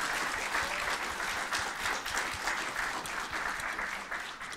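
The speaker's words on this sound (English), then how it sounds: "a big round of applause" Sustained applause from an audience at a tech talk after a speech, steady dense clapping filling the room at close range before easing slightly at the end.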